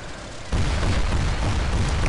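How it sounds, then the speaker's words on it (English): An anti-air gun in Battlefield Heroes opens fire after a quieter lead-in, giving a sudden rise into continuous rumbling booms and rapid bursts that stay loud to the end. "This is an anti-air gun."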